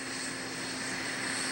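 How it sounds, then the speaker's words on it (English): A T-38 jet trainer flown by space shuttle astronauts in training gives a steady, loud, broadband engine roar that holds evenly without talk. "Both the commander and the pilot also practice flying in their T-38 jet trainers."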